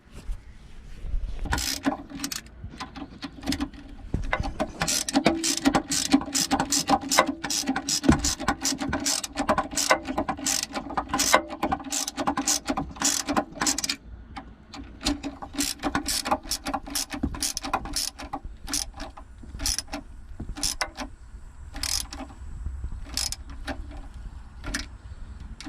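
A nut is run onto the terminal of a MerCruiser boat starter with a ratchet wrench, producing long, steady runs of fast close clicking with brief pauses between strokes, alone without speech.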